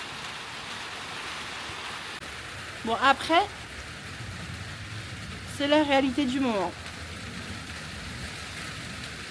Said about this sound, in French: Il pleut partout. C'est inondé partout.